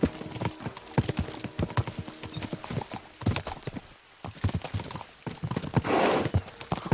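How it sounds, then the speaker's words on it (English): Horses gallop in the video game Kingdom Come: Deliverance 2, a rapid clip-clop of hooves close by over a busy background, with a brief dip in the middle before the pounding resumes. "We should spur the horses on."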